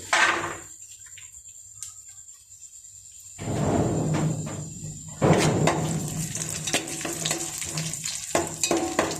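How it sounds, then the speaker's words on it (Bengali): Cashew nuts frying in ghee in a pan while pulao is being made, a soft sizzle rising after a quiet stretch, with stirring scrapes and occasional clinks of a utensil against the pot. "ঘিয়ে কাজু বাদাম দিয়ে দিয়েছে"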